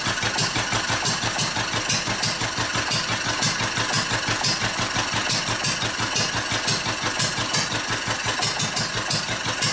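Old engine running close and loud as it starves for fuel, a steady rapid chugging beat that carries on throughout without any voices.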